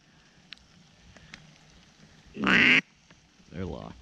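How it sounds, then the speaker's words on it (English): Ducks flying in to a hunting spread in New York, with a loud burst of harsh quacking up close, then a second, softer run of calls a moment later over a quiet outdoor background. "There's 4 ducks to our left."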